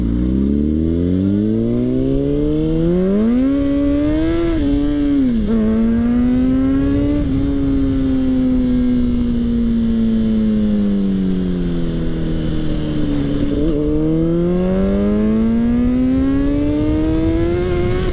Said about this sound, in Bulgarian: Не си иска гумите този мотор, ей!